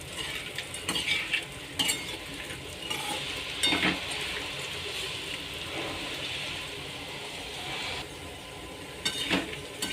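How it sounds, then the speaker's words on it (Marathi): Dried lentil dumplings (karoda) frying in hot oil in a pan, a steady broadband sizzle running throughout, broken by repeated clinks and scrapes of a spoon stirring against the pan. "मस्त तेलात खमंग फ्राय करून घ्यायचे आहेत"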